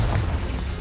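A Confringo explosive spell going off in Hogwarts Legacy, a single low, booming burst that rumbles and fades within a second, with no talk over it.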